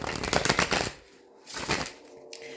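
Tarot cards being shuffled close up in two brisk bursts of riffling and flapping, separated by a short quiet pause.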